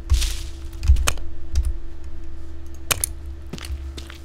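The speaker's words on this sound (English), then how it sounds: "I gotta play with the keyboard." Keys clatter on a computer keyboard as someone plays a video game, with irregular bursts of close, sharp clicks and thumps spread through the stretch, no talking.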